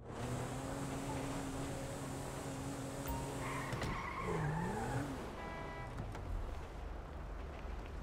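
Getaway car in Grand Theft Auto 5 skidding, tyres squealing in a rising and falling whine over steady engine drone and game background sound, fairly close.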